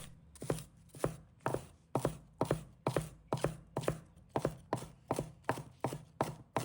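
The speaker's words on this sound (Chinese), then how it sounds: "再准备几根小葱，把它切成葱花。" Knife chopping spring onions on a board into small rings, a steady series of about fifteen sharp, evenly spaced cuts, close and crisp, with no talking.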